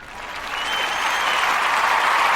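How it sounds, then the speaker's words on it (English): Sustained applause grows from moderate to loud and holds steady as a dense wash of many hands clapping. "Round of applause for listening to that"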